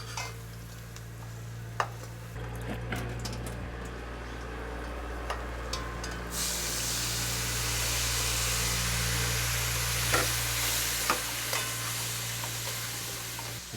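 Curry potatoes sizzle and fry in a pot in a Trinidad kitchen, a close steady hiss that swells louder midway, with occasional spoon taps and stirring clinks over a low hum.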